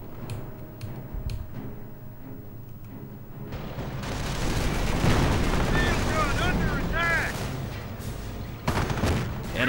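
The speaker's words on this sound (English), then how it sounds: "We have incoming rockets on our position" Incoming rocket barrage in a Company of Heroes World War II Normandy battle: scattered sharp impacts give way to a dense, roaring wash of explosions and whistling rockets, with a loud blast near the end and voices talking throughout.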